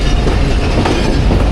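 The Karakoram Express passenger train rolls past on the rails, a loud, dense, continuous rumble with clattering wheels, close by and with no voices.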